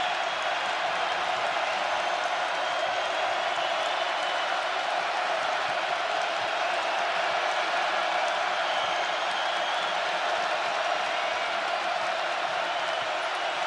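Packed Purdue basketball arena crowd roaring loudly and steadily throughout during a 2019 home game against Michigan State, a dense sustained wall of cheering with no pauses.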